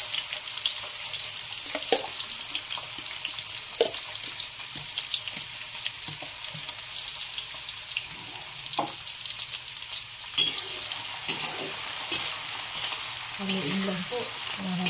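Meat frying in hot oil in a heated pan, a steady loud sizzle and crackle throughout, with occasional stirring clinks and scrapes.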